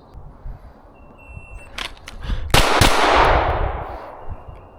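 Gunshots on an outdoor shooting range during practice drills in April: two sharp, loud reports close together, then a broad echoing wash that tails off, with faint earlier impacts.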